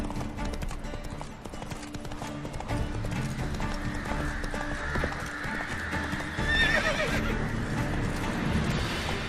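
In The Witcher 3, a horse gallops with rapid steady hoofbeats under a continuous game soundscape, giving a whinny near the end.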